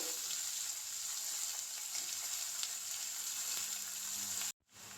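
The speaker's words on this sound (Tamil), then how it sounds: "அது கூடவே வந்து வெட்டி வச்சுருக்க வெங்காயமும் பச்சை மிளகாயும் போட்டுக்கணும்." Chopped onions and green chillies frying in oil for a pea and potato kurma, a steady close sizzle that runs continuously before cutting out briefly near the end, no voices.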